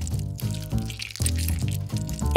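Juice squeezed from a sour lemon gushes into a fountain in an animated food challenge, heard as a run of bubbly, gurgling pours that repeat in quick bursts, fairly loud with no voices.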